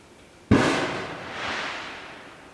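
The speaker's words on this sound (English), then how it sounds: "Uh-oh, there's fireworks out there." A single firework bursts outside with a sharp, muffled bang, then a rumbling, fading echo rolls on for about two seconds, heard from indoors at moderate distance.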